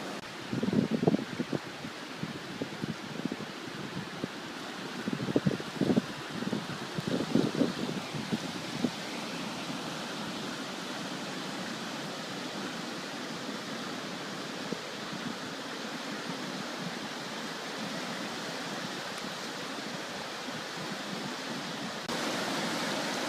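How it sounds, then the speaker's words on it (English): Water pours steadily over the top of a concrete dam in woodland, a continuous broadband rush that stays even throughout, with a few brief knocks and rustles early on. "Looks like the water is just pouring right over the top of the dam."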